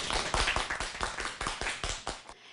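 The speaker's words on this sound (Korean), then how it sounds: "박수 한번 칠까요, 우리?" Schoolchildren clap together in a classroom to celebrate passing a local ordinance on preventing wild bird collisions, a run of about a dozen quick, even claps that stops abruptly.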